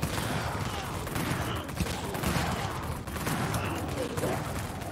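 Sustained video-game gunfire from a duo shooter match, a dense, continuous barrage of shots at steady loudness throughout, with voices mixed in underneath.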